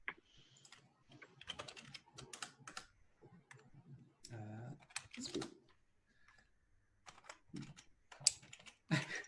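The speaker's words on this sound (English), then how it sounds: "as I was typing in the URL to him" A web address is typed on a computer keyboard in irregular bursts of close, crisp key clicks with short pauses, and voices speak at times in between.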